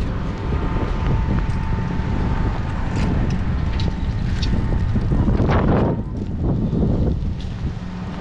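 Steady wind buffeting the microphone, a loud continuous low rumble with gusts swelling and easing, no voices.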